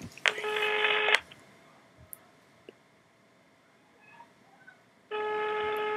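A telephone ringtone sounds during a Danish radio call-in, with two loud bursts of steady electronic ringing, one near the start and one at the end, and quiet background in between.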